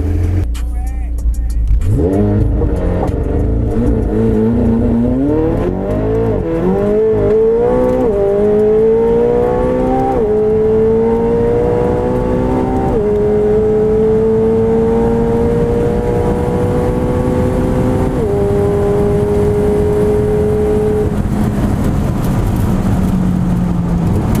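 A McLaren 720S launches hard down an airstrip, its engine note climbing loud and close through repeated upshifts, each gear pulling the revs back before they sweep upward again over roughly twenty seconds of sustained acceleration.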